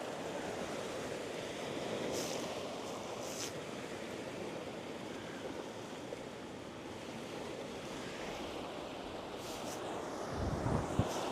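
Ocean water surging and washing beneath a jetty, a steady broadband rush with constant wind noise buffeting the microphone and a slightly louder splash near the end.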